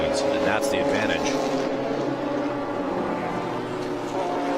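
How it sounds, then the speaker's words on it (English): Porsche 911 GT3 Cup race car engines on a racetrack during a race against a Daytona Prototype, a loud sustained engine roar under an excited commentator's voice. "Porsche's Cup Series of 911 race cars"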